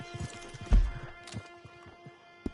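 Horse hooves clip-clop in Red Dead Redemption 2 with an uneven rhythm, several soft steps and one heavier thud near the start, over a low ambient hum.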